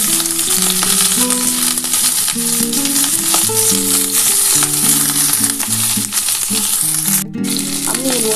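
Chopped onions fry steadily in a pan, a loud continuous sizzle carrying on for several seconds with a tonal musical backing running underneath and no speech.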